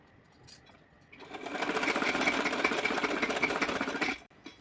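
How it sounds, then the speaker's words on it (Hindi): A sewing machine stitches fabric for a small summer outfit, running in one steady continuous burst of close, even mechanical whirring for about three seconds after a quiet start, then stopping. "तो चलिए सिल रही हूँ और आपको दिखाऊंगी"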